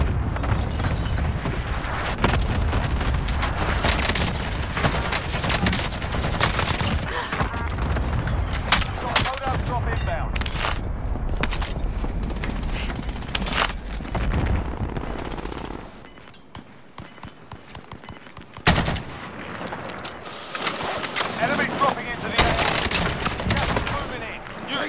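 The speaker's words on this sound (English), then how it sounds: "Cluster strike away." Cluster strike explosions in a video game battle, rapid loud rattling bursts of blasts and gunfire for a long stretch, easing off midway then flaring again, with player voices in between.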